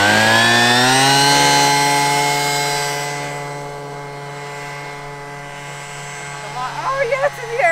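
A leaf blower rigged as an RC airplane propeller runs at full throttle with a loud, steady high-pitched whine that softens slightly mid-way, and someone talks over it near the end.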